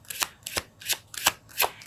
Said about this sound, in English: So let's pull a card for